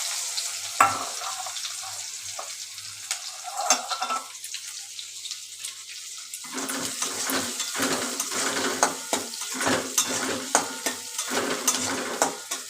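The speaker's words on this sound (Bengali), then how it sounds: "পেঁয়াজ কুচি দিয়ে একটু পেঁয়াজটা ভাজা ভাজা করে নেব" Chopped onion sizzles loudly in hot oil in a pan with cumin seeds and fried fish, a steady crackling hiss that grows busier partway through, broken by scraping and clattering stirring strokes.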